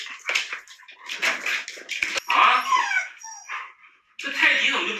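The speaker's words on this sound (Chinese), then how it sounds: "这两个泰迪。" Two toy poodles whimper, yip and give short barks at close range during a treat game, mixed with a person talking over them.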